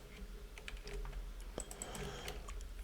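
Light, uneven tapping of keys on a computer keyboard while writing F# and C# code, quiet and close with a steady low hum underneath and no talking.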